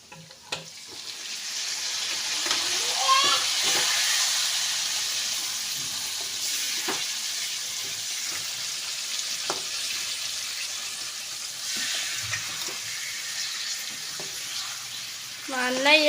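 A kilogram of chicken fries for curry in a pan with a loud, dense sizzle that swells after it is added and then settles, broken by occasional stirring scrapes; brief voices appear at moments.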